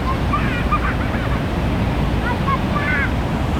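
Rushing floodwater roars continuously at close range as a truck wades through, a dense steady wash of noise with faint voices underneath.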